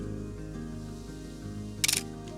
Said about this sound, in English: And let me press the shutter.